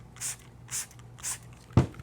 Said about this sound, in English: Now I'm gonna go ahead and spray this shoe.